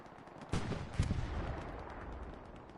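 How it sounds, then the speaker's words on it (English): Distant artillery fire in the World War II shooter game Hell Let Loose, with two heavy booms in quick succession followed by a rumbling decay, alone and without talk. "artillery just dialed in that strong point"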